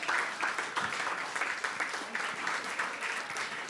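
A press club awards event crowd gives a round of applause for an honoree, dense, moderately loud clapping from many hands in a room, lasting a few seconds.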